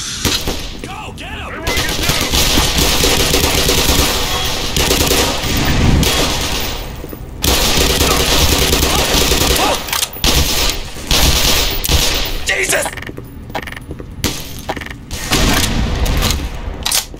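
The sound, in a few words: gunfire from a video game, Black Mesa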